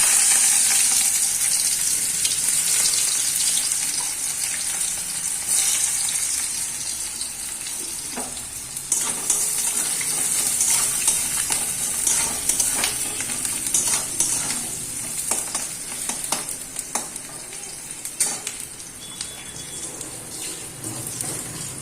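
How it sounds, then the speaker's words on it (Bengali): Onions frying in a pan for a meat dish, a steady close sizzle with stirring and scraping clatter running throughout, no talking. "মাংসের জন্য পেঁয়াজটা ভেজে নেব।"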